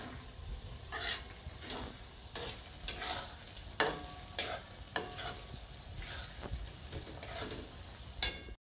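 Ginger-garlic paste cooking with chopped onions in a pan, a soft continuous sizzle broken by repeated scraping stir strokes roughly once a second, close and fairly quiet, no talking.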